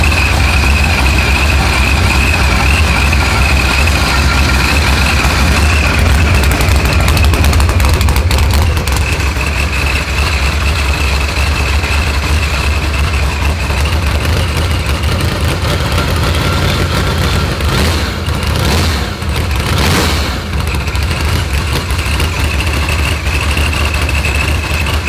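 Supercharged burnout truck engine idling loud and close after its first start, a heavy continuous low rumble with steady pulsing and a few brief rises near the end, no talk.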